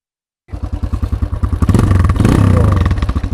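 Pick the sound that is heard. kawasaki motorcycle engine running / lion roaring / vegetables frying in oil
kawasaki motorcycle engine running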